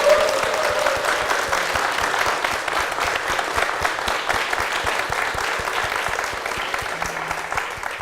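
Loud, sustained applause from a church congregation for its senior pastor, many hands clapping together in a dense, continuous roar that holds steady throughout.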